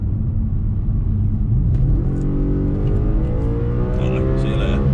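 An Audi RS4 B8 estate with a V8 engine accelerates along a road, its deep rumbling engine note rising in pitch as it builds speed, loud and close, with whining harmonics climbing over the final seconds.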